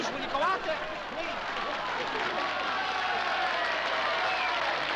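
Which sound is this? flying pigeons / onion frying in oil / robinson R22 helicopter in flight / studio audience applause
studio audience applause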